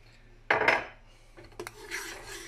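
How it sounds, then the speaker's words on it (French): A spoon scrapes and stirs through a coconut milk sauce with finely chopped coriander in a pan off the heat: two bursts of clinking, rubbing contact noise, close and fairly quiet, with no speech. "Je remue."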